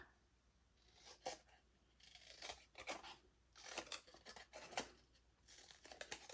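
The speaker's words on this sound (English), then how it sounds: "I'm going to fussy cut some of these hexagons out." Scissors fussy cut stamped paper hexagons at a craft table, making a run of quiet, crisp snips and paper rustles in an irregular rhythm, close but faint, with no talking.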